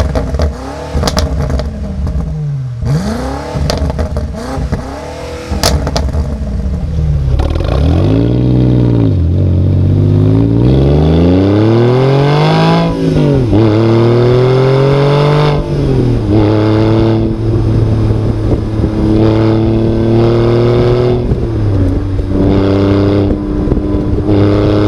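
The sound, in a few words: car exhaust sound recorded with Tascam DR05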